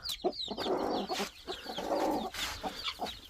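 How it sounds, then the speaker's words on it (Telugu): Chickens cluck continuously in a poultry shed housing two-month-old birds, a busy overlapping chorus of clucks and squawks close by with no talking. "దీంట్లో ఉండేవి వచ్చి ఇవి పెద్ద కోడివి. ఇవి 2 నెలల పిల్లలు."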